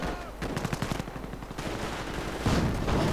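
Battle gunfire in a World War II strategy game, with German Panzer Grenadiers attacking and a Cromwell tank joining in: dense, rapid machine-gun bursts and rattling shots keep up with no break, loud and crowded.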